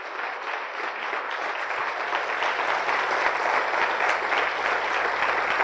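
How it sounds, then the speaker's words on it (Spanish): A church congregation breaks into loud, sustained applause that swells after a quiet start and keeps going as dense clapping from many hands, with a few voices faintly underneath. "Dale un fuerte aplauso, ¿verdad?"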